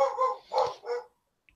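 A dog barks indoors in a quick run of three close, loud barks, followed by brief silence and one tiny click.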